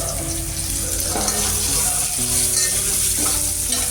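Tomatoes hit a hot frying pan with curry leaves for dal baati, raising a loud continuous sizzle broken by scraping stirs, with faint steady tones in the background.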